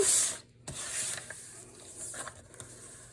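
A scoring tool scrapes across paper half an inch up from the bottom edge, a soft close scratching with a brief louder rasp at the start and small rubbing noises after.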